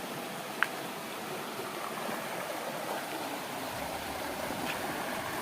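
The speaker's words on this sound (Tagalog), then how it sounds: "malalaking bato at agos ng tubig ang maririnig natin dito" A stream rushes steadily over large rocks, a constant broad wash of flowing water with no voices, close and even throughout.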